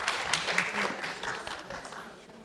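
An audience applauds a singer at a live performance, a steady wash of clapping that gradually fades over a couple of seconds.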